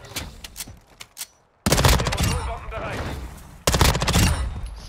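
Bursts of rapid automatic gunfire from the BAS-P gun in the video game Modern Warfare 2, loud sustained volleys separated by a brief silence, with a voice talking in the quieter opening part.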